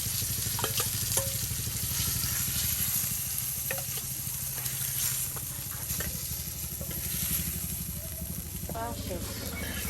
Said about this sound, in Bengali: দেখেন অনেকগুলো মাছ ভাজা হইলো